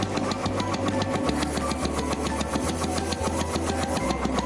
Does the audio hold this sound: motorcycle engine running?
yes